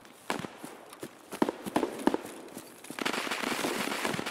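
Sharp bursts of gunfire in the video game Escape from Tarkov, on the Reserve map, crackle in irregular clusters, some single shots and some rapid volleys, close and fairly loud.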